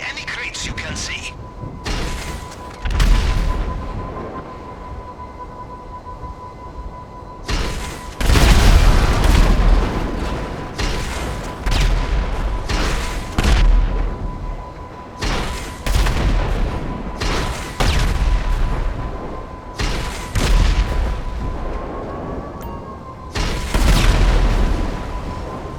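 Repeated explosions and blasts destroying crates at a distribution center in GTA Online, heavy booms and gunfire arriving in bursts over a steady tone, with talking in between.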